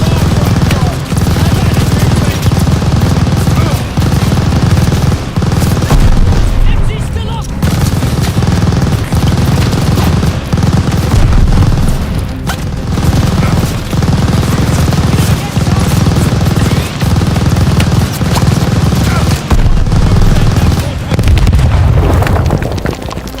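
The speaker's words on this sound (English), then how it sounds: "Suppress that MG! We need a grenade on that MG!" Machine gun fire in a combat video game, a constant loud barrage of rapid shots and heavy explosions filling the whole stretch without let-up.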